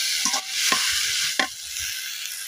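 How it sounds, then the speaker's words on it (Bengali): Coriander leaves fry with dried puti fish in a pan, a steady close sizzle broken by three sharp scrapes of stirring, with no voices. "এবার এগুলো আমি কিছুক্ষণ ভেজে নিব"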